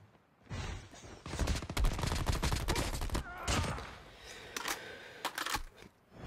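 Hip-fired gun in Call of Duty Mobile, rapid sharp bursts of shots in quick clusters, close and crisp, with pauses between volleys.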